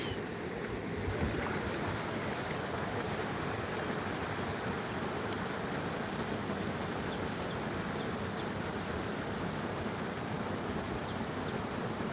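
Steady rushing water of a river churns on without pause, a broad roar mixed with wind buffeting the microphone; no voices.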